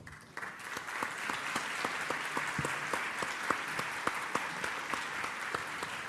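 Audience at an education conference panel on AI and emerging technologies gives sustained, fairly faint applause, with distinct individual claps in a steady rhythm.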